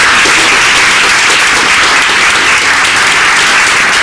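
A film crew gives a sustained, dense round of applause, loud and steady throughout with no talking over it.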